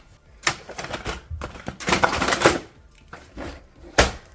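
A stack of paper is loaded into the paper tray of a Brother DCP2640DW printer, with close rustling, shuffling and tapping of sheets in uneven bursts and a sharp knock near the end. Nobody speaks.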